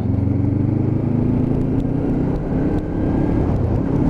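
A Lexmoto LXR 380 motorcycle engine rev-matches down through the gears into fourth and pulls away, a loud continuous droning engine note with wind rush, heard from the rider's position.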